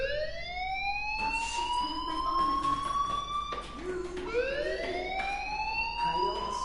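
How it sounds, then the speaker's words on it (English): In the video game Life is Strange, a fire alarm wails in repeated rising sweeps that loop steadily and loudly, with a brief dip between cycles. "do you hear that fire alarm? That means you should be outside."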